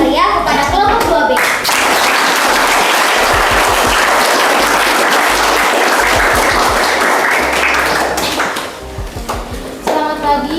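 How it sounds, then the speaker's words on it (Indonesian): A school audience applauds a student group's presentation, dense clapping that swells for several seconds and then tapers, with children's voices and chatter at the start and end. "Mari kita beri tepuk tangan yang meriah kepada kelompok 2B."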